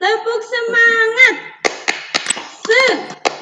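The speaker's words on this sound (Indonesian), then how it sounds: "Yuk, bareng-bareng tepuk semangat." A classroom of children performs a rhythmic spirit clap, sharp hand claps cutting in between a woman's sung or chanted lines and the kids' voices, close and loud.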